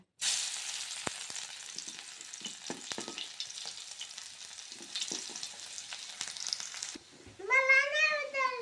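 A steady sizzle of peanut chutney ingredients being roasted on a hot griddle crackles for several seconds, then a cat meows insistently at the end.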